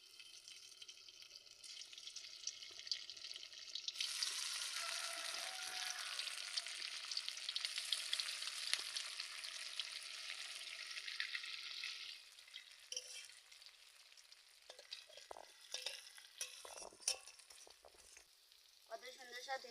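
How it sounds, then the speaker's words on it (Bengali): Ground-lentil dhoka cakes frying in oil in a kadai over a village clay stove, a loud, dense sizzle for about twelve seconds that then thins into lighter crackling with scattered clinks of a utensil. "এগুলো আমি তেল দিয়ে দিচ্ছি"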